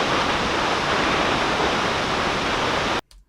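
Steady, full-bodied roar of a waterfall in a rainforest setting, a dense unbroken wash of falling water that holds loud and even for about three seconds before cutting off abruptly.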